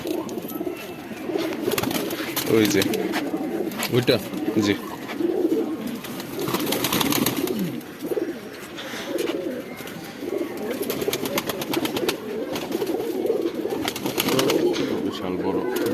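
A large male breeder pigeon and others in a loft coo in repeated low, throaty rolls, fairly close, with someone speaking briefly over the birds.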